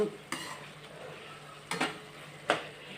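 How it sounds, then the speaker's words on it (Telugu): A spoon scrapes and clacks against a cooking pan as food is stirred, three or four distinct strokes over a quiet low hiss, close and without voices. "ఇవన్నీ బాగా ఉడికిందాక కలుపుకుంటూ ఉండాలి"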